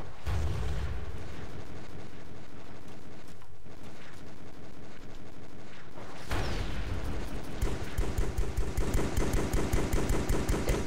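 Game gunfire in the military shooter Joint Operations: Typhoon Rising, a steady loud barrage of shots with dense rapid bursts that quicken into a rattling automatic stream near the end.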